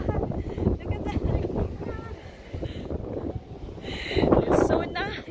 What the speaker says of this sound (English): It's windy outside.